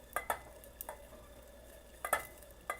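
A spoon or whisk stirs a thickening sauce as melted butter goes in for keto eggs Benedict, with scattered light clicks against the pot over a faint background, close and quiet.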